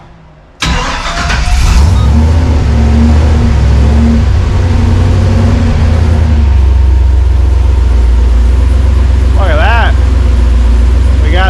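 A Toyota FJ40 engine catches and runs as the truck drives, a loud steady low rumble that starts abruptly and holds, with people talking over it.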